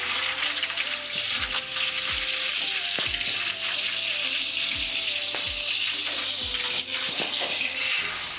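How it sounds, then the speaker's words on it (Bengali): Bitter gourd frying in a pan gives a steady, loud sizzle throughout, with a few metallic clinks and scrapes from stirring mixed in. "করলা ভাজি, এর মধ্যে একটুখানি লবণ"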